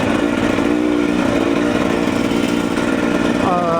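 Husqvarna TE300 motorcycle engine running steadily on a break-in ride, a loud continuous buzzing drone with a slight rise in pitch near the end and a voice faintly underneath.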